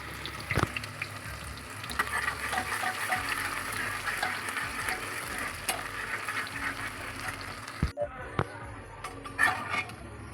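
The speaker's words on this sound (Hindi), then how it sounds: "फ्रेंड्स, प्याज हमारा भुनने वाला है।" Finely chopped onions sizzle steadily in a hot pan, with an occasional stir, and the sound cuts off sharply near the end, leaving faint clinks.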